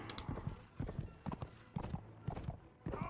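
Horse hooves clip-clop in the video game Mount & Blade With Fire and Sword, a quick galloping rhythm of repeated hoofbeats in bursts, fairly quiet and close, with no speech.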